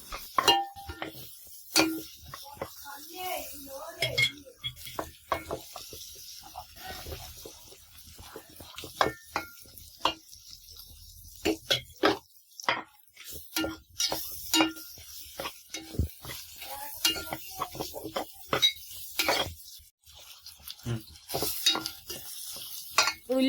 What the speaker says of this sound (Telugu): దాంట్లో ఉల్లిపాయ తరిగి పచ్చిమిరకాయలు వేసి చూడు, కొంచెం పసుపు వేసి దోరగా ఏగుతున్నాం